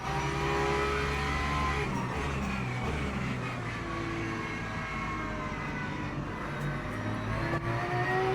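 Race cars at Spa in the Le Mans Ultimate sim, including a hypercar and a Porsche GT3, roar continuously with steady engine drone and shifting pitch throughout, loud and close with no break.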